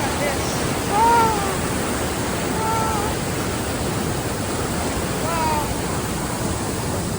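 Morton Waterfalls at Campbell River, BC, water rushing down in a loud, close, continuous roar. A person calls out in excitement a few times over it.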